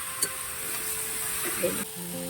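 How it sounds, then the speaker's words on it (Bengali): Vegetables frying in a pan at home give a soft, continuous sizzle with a brief scrape of stirring, fairly quiet and close, with a faint voice or tone mixed in. "এটা এখন ভালো করে ভাজা ভাজা করব আর কষিয়ে কষিয়ে রান্নাটা করতে হবে"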